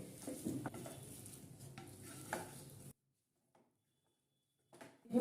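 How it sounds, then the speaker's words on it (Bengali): Finely chopped mixed vegetables stirred together with boiled potato in a pan, soft scraping and faint sizzle for a few seconds, then near silence before a brief clatter. "দিয়ে এবারে সবজির সাথে ভালো করে নেড়ে মিশিয়ে নেব"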